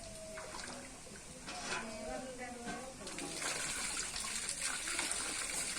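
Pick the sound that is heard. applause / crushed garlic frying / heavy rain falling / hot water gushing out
hot water gushing out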